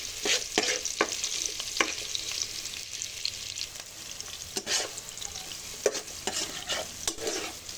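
Onion, garlic and ginger sauté in a pan under a soft sizzle, broken by sharp scraping strokes of a spatula stirring at irregular intervals.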